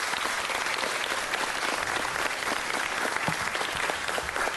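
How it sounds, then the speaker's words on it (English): Sustained, even applause from the audience filling a city council chamber, a dense crowd of clapping hands holding steady at full strength throughout. "Let's give him a big round of applause."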